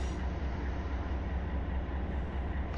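CSXT freight train B202-27 in Run 8 Train Simulator III, Waycross to Callahan, giving a steady, dense low rumble of engine and rolling cars throughout, with no talk.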